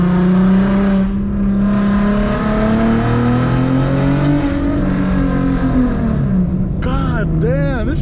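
An Infiniti Q50 accelerates hard from inside the cabin, its engine note droning and climbing steadily, with a shift near the end and people talking over it.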